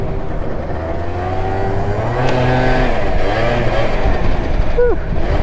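A scooter engine revs hard as the rider pops a wheelie, the rising whine climbing and dropping in pitch over a steady drone, with a voice heard briefly alongside.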